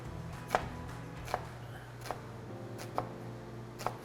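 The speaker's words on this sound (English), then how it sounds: "you just want to make little cuts that they go all the way through" Knife chopping through a purple onion on a cutting board in a kitchen, five sharp, evenly spaced knocks about a second apart over a low background hum.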